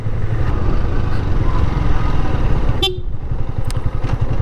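Motorbike ride on a slick muddy mountain road between Bandarban and Thanchi, engine droning steadily and close throughout, with a brief horn-like tone near the end.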